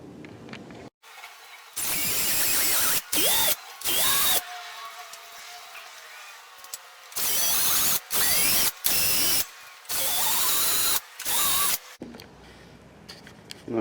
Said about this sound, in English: you just saw me drill my pilot holes in these 3 center holes right here